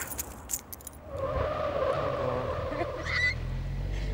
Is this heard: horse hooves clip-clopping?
no